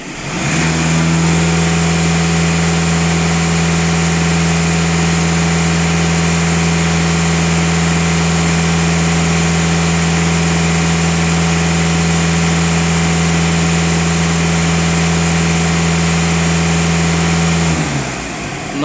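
A Volkswagen Passat B8 with diesel particulate filter regeneration trouble idles steadily for nearly twenty seconds, a loud, close, unchanging engine drone with no clear rise in revs, and no voices.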